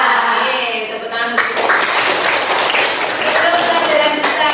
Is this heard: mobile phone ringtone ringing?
no